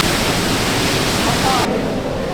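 Niagara Falls pours down in a massive, unbroken roar, the water crashing so hard it sprays back up, loud and close with constant broadband rush.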